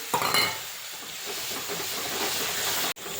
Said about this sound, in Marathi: या मसाल्याला तेलात छान परतवायचा जोपर्यंत त्याच्या कडाला तेल सुटत नाही